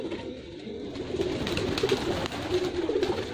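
A Telo pigeon coos close by during training, repeated soft throaty rolling calls rising and falling in a loose rhythm over quiet background noise.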